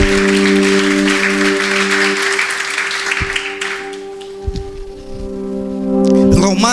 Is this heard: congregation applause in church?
yes